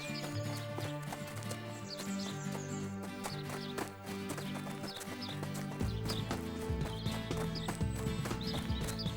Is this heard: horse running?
yes